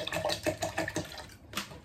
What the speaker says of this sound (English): So I'll pour some water on it